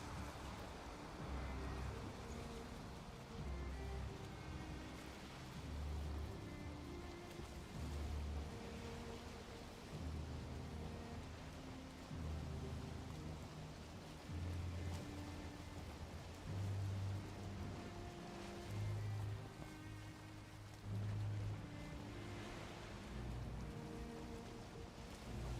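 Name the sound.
heavy rain in the video game Valheim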